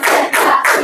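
A classroom of students claps together on a count, three quick group claps in an even rhythm, close and loud with no talk over them.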